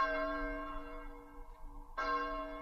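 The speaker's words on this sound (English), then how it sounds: "The passing bell is heard." A passing bell tolls, two strokes of a church bell with a long ringing hum between them, clear and moderately distant.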